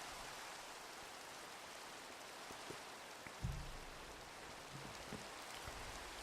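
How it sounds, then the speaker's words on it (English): Steady rain in modded Minecraft hissing evenly throughout, with a few faint low thuds and knocks near the middle. "And of course it's raining."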